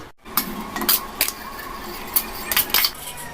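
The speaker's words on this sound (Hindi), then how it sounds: "अब इसे एक बर्तन में निकाल देते हैं।" Steamed lemons are moved from the cooking pot into another vessel, with a series of sharp metallic clinks and clatters of utensils against metal at close range, spaced irregularly.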